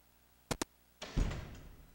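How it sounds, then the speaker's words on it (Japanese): A door slams shut in a video game: two quick sharp knocks, then a heavy thud that rings out and fades over about a second, fairly quiet overall. "背後で柿崎さんが扉を閉める荒々しい音が聞こえる"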